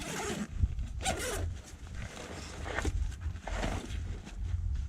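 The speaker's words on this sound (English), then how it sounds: "The other nice thing about these 511 backpacks is you can zip them open and really just kind of lay them out." A 5.11 backpack from a hunting loadout is unzipped with several close, raspy zipper strokes that come in uneven bursts, with no talking.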